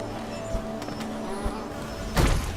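Bees buzz in Hollow Knight as a steady insect drone runs through the scene, with a louder burst of game noise near the end and no talk.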